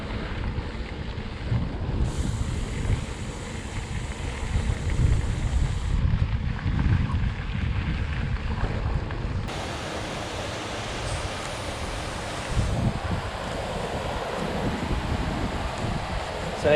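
Wind blows hard by Lake Temiscouata, a loud continuous rumbling roar that buffets the microphone, shifting in strength partway through with no talking.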